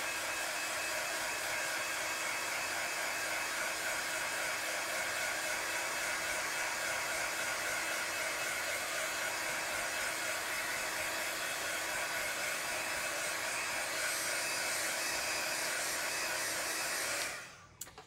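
A hair dryer blows steadily at close range to quick-dry paint in a craft session, a loud continuous whooshing roar that carries on unbroken before cutting off abruptly near the end.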